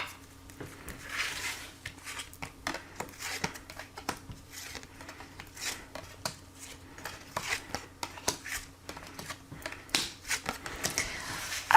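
Tarot cards are shuffled by hand for a reading, giving soft, irregular riffles and slaps close by in quick bursts with short pauses, fairly quiet throughout.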